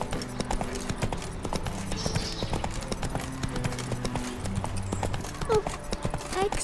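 Roach, a horse in The Witcher 3, gallops with a steady run of hoof clip-clops close by, broken by a brief whinny, while a voice talks over the hooves.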